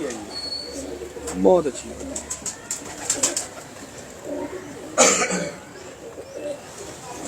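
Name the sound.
pigeons cooing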